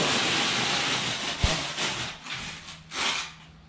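A mortar applicator tool pushed along a wall joint gives a steady scraping, rubbing sound with a brief knock near the middle and a few swells, close and fairly loud.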